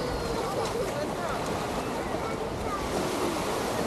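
Ocean surf at Waikiki Beach rolls in a continuous wash with wind buffeting the microphone, a steady broad roar that stays close and loud for about four seconds.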